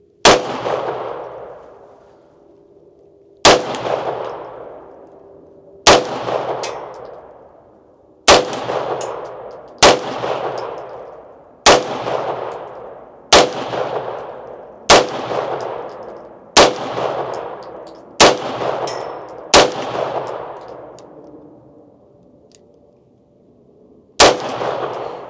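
Gunfire at target shooting practice, about a dozen sharp, loud single shots spaced a couple of seconds apart, each ringing out with a decaying echo.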